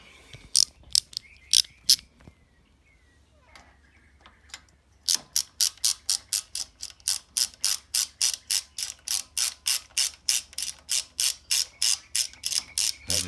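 A ratchet wrench tightens a mount on an Ariens zero-turn mower, clicking sharply and close by. A few scattered clicks come first, then a long steady run of rapid, evenly spaced ratcheting strokes.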